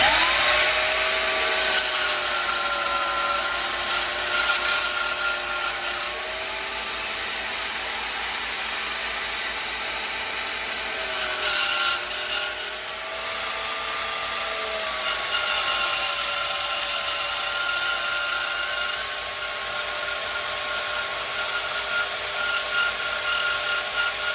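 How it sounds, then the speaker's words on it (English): A power saw cuts excess steel off a knife blank in a workshop, a loud sustained whine with wavering pitch that dips and recovers as the blade bites, running continuously for over twenty seconds. "we're going to go back to saw. I'm going to cut off some of this excess steel"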